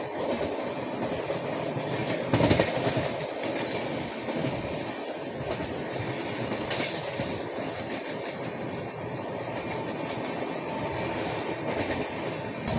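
Coromandel Express runs on the tracks between Chennai and Kolkata, a steady loud rumble and rattle of the moving train with one brief sharper clatter early on.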